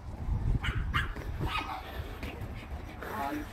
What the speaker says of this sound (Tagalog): Tahol pa lang, nakakatakot na.